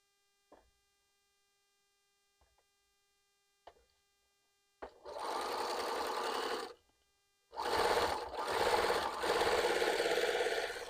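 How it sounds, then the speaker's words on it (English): A sewing machine whirs in two steady bursts of stitching quilting fabric, preceded by a few soft clicks and taps, with a brief pause between runs. "And back to the sewing machine."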